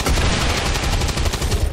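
Rapid gunfire from the video game XCOM 2, a dense burst of repeated shots fired in quick succession, loud and close throughout.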